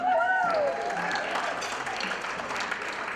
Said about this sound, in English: So feel free to applaud all these great folks who are making this weekend a possibility.